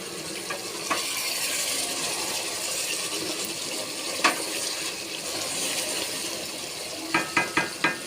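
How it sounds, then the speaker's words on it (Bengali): Raw rice being rinsed in water for a chicken biryani gives a steady soft swish and trickle, with a few brief knocks at the end. Close and fairly quiet, with no talking. "এখন এখানে আমি চাল ধুয়ে রাখছি"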